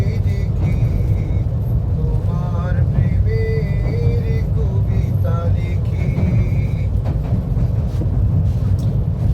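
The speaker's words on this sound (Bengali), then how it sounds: "যখন কমলাপুর রেল স্টেশনে আসে তখন ট্রেন তো একটু স্লো হয়" The Mohanagar Godhuli train slowing into Kamalapur railway station: a loud, constant low rumble of the carriages with squealing brake tones rising and falling, and faint voices underneath.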